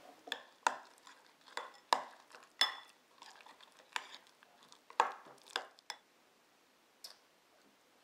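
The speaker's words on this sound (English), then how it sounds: "Set that aside, and then we start giving it a stir." A spoon stirs an oatmeal mixture with a scoop of protein powder in a bowl, making a run of sharp, close clinks and scrapes at an uneven rhythm that thins out and stops near the end, with no talking.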